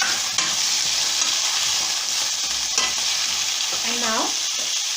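Pumpkin cooks in a pan with a constant sizzle and scraping stirring strokes nearby, plus a brief faint voice-like sound near the end.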